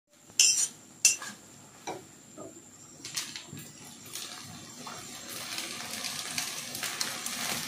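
A spoon scrapes and knocks against a kadai as boiled peas for ghugni are stirred, with a few sharp metallic clinks at first, then continuous soft scraping and shuffling close by, fairly quiet, no voices.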